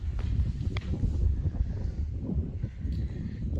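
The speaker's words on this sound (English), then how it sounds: "It's pretty windy up here." Wind buffets and rumbles against the microphone in low gusts throughout, with faint rustling and no speech.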